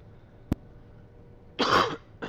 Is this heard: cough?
yes